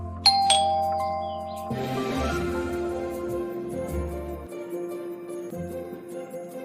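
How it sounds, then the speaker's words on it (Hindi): A doorbell chimes clearly, a bright ding-dong whose tones ring out and linger, with a few faint knocks or thuds underneath as the ring fades. "शाजिया कब से डोरबेल बजा रही थी"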